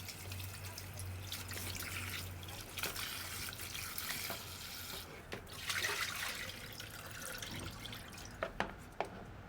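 Raw chicken is rinsed under a running tap in a kitchen sink, a steady close trickle and splash with a few louder drips and spatters near the end. No voices are heard.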